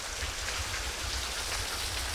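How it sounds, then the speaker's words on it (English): Small trickling waterfall at Wildcat Mountain State Park after a couple of hours of rain, a soft steady splash and hiss of falling water, fairly faint and continuous with no voices. "going back to a little bitty waterfall coming off"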